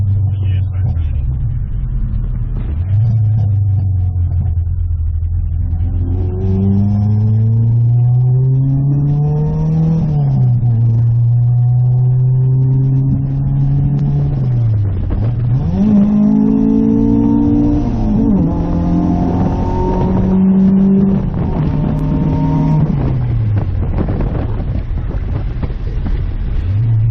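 A Honda B20 VTEC car engine runs loud and close, its pitch rising and falling through repeated revs and accelerations with a steady rumble underneath and no speech.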